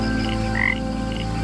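A poison dart frog calls in an ancient forest, giving a loud, close, steady croaking trill with no voices over it.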